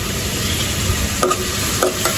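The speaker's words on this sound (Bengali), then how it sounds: "এখানে কিন্তু পেঁয়াজ বসিয়ে দিচ্ছি। এখানে 1 কাপ পরিমাণ পেঁয়াজ কুচি কুচি।" A cup of finely chopped onions frying in a pan, a steady close sizzle with a couple of brief stirring scrapes, no voices.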